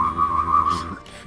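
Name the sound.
voice imitating a UFO abduction noise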